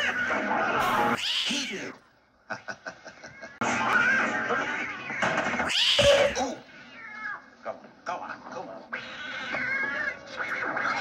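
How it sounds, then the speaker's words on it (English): Cats yowl and caterwaul on a piano, loud piercing meows mixed with scattered keys, as people talk between and over the noise. "Which one of you put those cats on the piano?"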